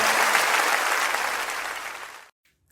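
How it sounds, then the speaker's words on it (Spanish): A church congregation applauds during a worship service, dense loud clapping that continues for about two seconds and then cuts off abruptly into silence. "Débele fuerte ese aplauso a Él."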